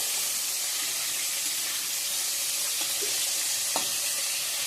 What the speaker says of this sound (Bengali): তো এই যে এদিকে বটবটি ভাজা বসাই দিয়ে দিছি।